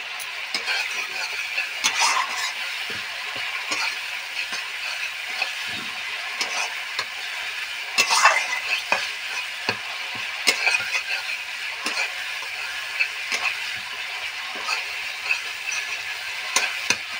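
Spice masala fries in oil for an egg and soybean curry, the oil separating as it cooks, giving a continuous close sizzle broken by repeated scraping stirs throughout.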